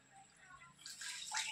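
Water poured into a pan of jaggery on a stove, a quiet trickle rising into a brighter splashing pour near the end, close and faint.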